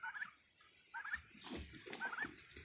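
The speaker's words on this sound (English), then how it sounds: "We have four baby turkeys." Baby pet turkeys give short, high peeping calls in scattered bursts, close by and fairly quiet, with a brief soft rustle between calls and no talking.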